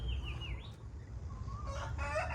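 Chickens in a garden being fenced off with netting: faint rooster crowing and hen clucking drift in from a distance over steady low outdoor rumble, with one longer call near the end.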